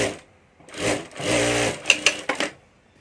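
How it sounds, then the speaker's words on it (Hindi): A sewing machine stitches a hand bag in short close bursts of whirring, separated by pauses, ending with a few quick clicks and clacks. "यहाँ ऊपर हमें सिलाई करके साथ में अटैच कर देना है"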